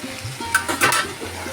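Potatoes being stirred into mutton keema in a pan, a brief close scraping stir over a low sizzle, with a couple of louder scrapes in the middle.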